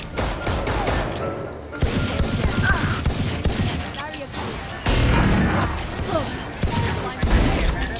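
Gunfire in the shooter game Valorant, with repeated rapid volleys and bursts loud throughout while players talk excitedly over the shooting.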